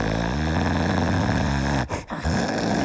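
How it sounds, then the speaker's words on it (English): A dog snores heavily and rhythmically close by, deep and raspy, broken by a short pause before continuing. "Snoring."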